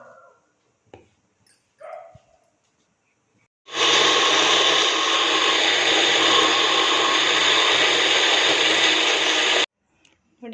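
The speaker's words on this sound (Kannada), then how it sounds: "ಮತ್ತು ಕೊತ್ತಂಬರಿ ಸೊಪ್ಪು ಇದಿಷ್ಟನ್ನು ಕೂಡ ಈಗ ನುಣ್ಣಗೆ ನೈಸ್ ಫೈನ್ ಪೇಸ್ಟಾಗಿ ರುಬ್ಕೊಳ್ಳೋಣ" A kitchen mixer grinder blends coriander leaves into a fine masala paste, running as a loud, steady whir for about six seconds before cutting off, after a few faint clicks and knocks.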